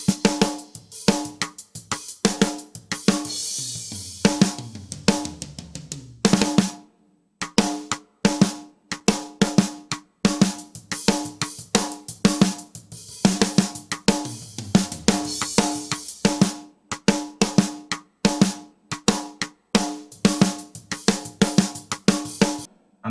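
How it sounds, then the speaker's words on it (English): A punchy snare drum played in a mixed rock groove comes through overhead microphones, its sharp cracks repeating in steady rhythm with cymbal wash and ringing overtones around each hit. "that's the sound of the snare"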